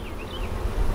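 A loud, steady buzz from many honeybees at close range as a hive is opened for inspection, a continuous droning hum with no voices.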